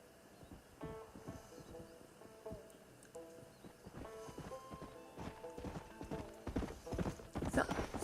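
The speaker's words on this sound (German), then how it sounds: "Pferdchen." Horse hooves clip-clop in Red Dead Redemption, a steady walking rhythm of close hoof strikes that grows busier and louder toward the end, with faint tonal background sounds.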